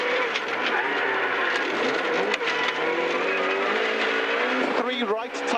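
A Vauxhall Nova 1400 rally car drives a forest stage at speed, its engine droning steadily with gear changes and tyre scrabble, heard from inside the car, with a co-driver's voice calling notes over the noise.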